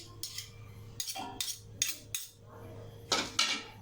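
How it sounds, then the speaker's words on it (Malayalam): Metal spoon clinking and scraping against a bowl while mixing gelatin, a series of sharp irregular taps and scrapes at close range, with no other sound between them. "എന്നിട്ട് നല്ലോണം ഒന്ന് മിക്സ് ചെയ്യാം."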